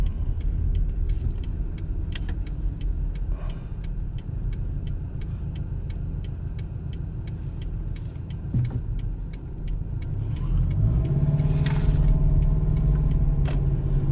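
A 2011 Subaru Legacy engine, with a suspected failing idle air control, pulls away with a steady low rumble inside the cabin. A regular ticking runs through, and the engine note swells slightly near the end.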